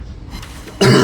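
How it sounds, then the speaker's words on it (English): A single sharp, loud cough from a man recovering from the flu bursts out near the end after near silence, close to the microphone. "I really apologise for this continued cough"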